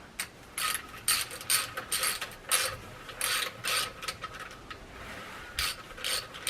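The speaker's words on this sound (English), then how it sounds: "All we've got to do is just going to screw our little scraping tool in there." Small metal scraping tool being screwed into a thread, a series of dry ratcheting clicks and scrapes in uneven bursts, close and fairly quiet, with no talk.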